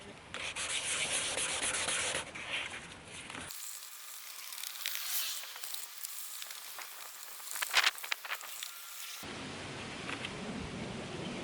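A car headlight lens is sanded with 400 grit sandpaper in steady, close scrubbing strokes, a continuous gritty rasp that keeps going throughout with slight changes in intensity.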